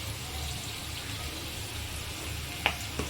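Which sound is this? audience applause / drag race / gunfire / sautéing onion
sautéing onion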